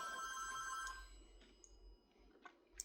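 A home landline telephone rings with a bright electronic trill, repeating a few times before stopping, followed by faint clicks in a quiet kitchen.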